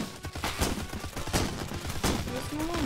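Rapid gunfire bursts from a weapon in the video game The Crackpet Show, dense repeated shots layered with game effects.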